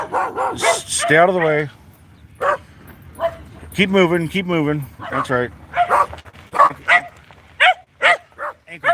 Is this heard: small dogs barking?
yes